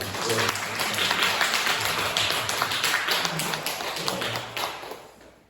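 A church congregation claps together in celebration, a dense, lively burst of many hands that holds steady for several seconds before fading out at the end.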